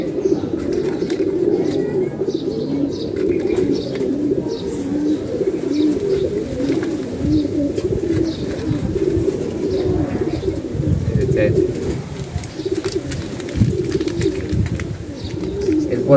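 A flock of domestic pigeons, some healthy and some sick, coo steadily in low overlapping warbles close at hand, with faint chirps and a light background murmur.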